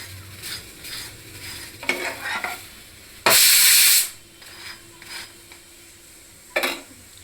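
Food being stirred in a home kitchen pan with a little oil, with intermittent scraping and clinking of utensil against the pan, a loud sizzling hiss burst in the middle and another brief one near the end.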